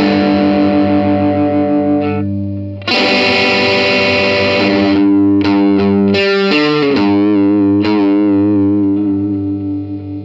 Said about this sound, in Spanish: Ese es el tono crunch del primer canal.